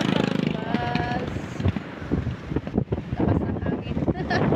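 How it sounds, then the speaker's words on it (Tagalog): Strong wind buffets the microphone outdoors, a loud, constant roar and rumble that runs through the whole stretch, with a voice speaking over it. "Lakas ng hangin."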